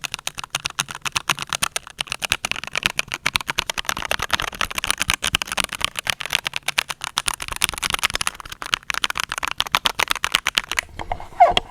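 Typing on a NuPhy Halo96 keyboard fitted with Baby Racoon switches: a rapid, continuous stream of close, crisp keystroke clicks with small uneven pauses, ending in a couple of heavier key presses.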